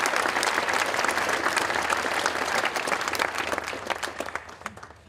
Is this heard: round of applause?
yes